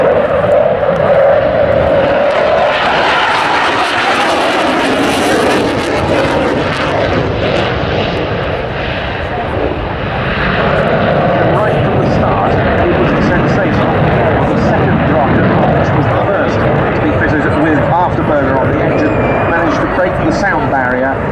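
A Saab 35 Draken jet fighter flies past at an airshow with a loud, sustained roar that swells and sweeps in pitch as it passes, then keeps rumbling steadily.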